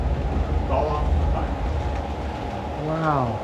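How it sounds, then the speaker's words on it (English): Continuous rumbling rail noise from six or seven model trains running at once at the Sioux City Railroad Museum, with people's voices talking over it and a rising squeal near the end. "We have 6 trains or 7 trains running at once."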